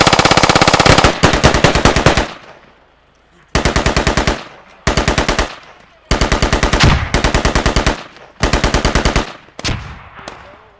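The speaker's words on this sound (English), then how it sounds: "Shooting from the south." Automatic gunfire from the video game Squad rips out in several long bursts separated by brief pauses, loud and close, with a sharp rapid rhythm and no talk.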